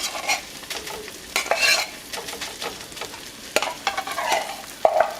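Shredded pork warming in a pan over medium heat gives a soft, even sizzle, while repeated scrapes and clicks of a utensil stirring against the pan sound close by, with no talking.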